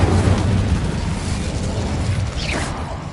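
Confringo and Incendio fire spells cast in Hogwarts Legacy, a loud roaring burst of fiery rumble with low booming energy that slowly fades, a whooshing streak near the end.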